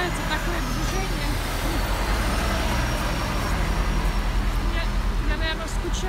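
Winter road traffic at about minus eight degrees, a continuous rumble of buses, trucks and cars with a broad noisy wash and occasional higher whines, fairly close.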